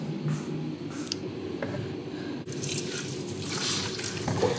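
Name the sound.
water poured over chicken leg pieces to soak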